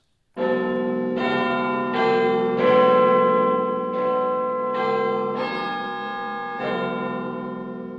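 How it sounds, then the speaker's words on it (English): Deep, resonant Big Ben clock bells strike a slow chiming melody, each stroke blooming and overlapping the last, with long ringing decay and no talking. "But how do you feel about Big Ben now?"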